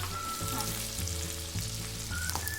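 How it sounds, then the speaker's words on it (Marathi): Edible gum (dink) fries in hot oil for ladoo, a steady close sizzle with faint stirring clicks and no voices. "थोडा थोडा करून आपल्याला हा डिंक तळून घ्यायचा"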